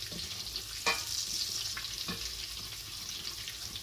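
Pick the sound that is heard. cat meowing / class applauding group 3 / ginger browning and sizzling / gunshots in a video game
ginger browning and sizzling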